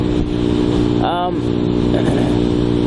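A Kawasaki 300cc motorcycle engine drones loudly and steadily, with a brief rising tone partway through, while a person talks over it.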